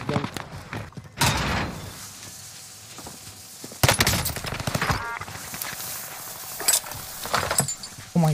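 SMG fire in Call of Duty Warzone on Rebirth Island rattles out in loud rapid bursts, separated by quieter stretches of game ambience.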